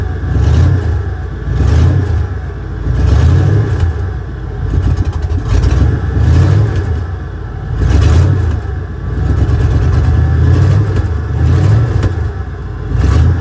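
An old car that has sat unused for a while cranks to life and its engine is revved repeatedly in rhythmic surges, loud and close with a clattery idle between each rise.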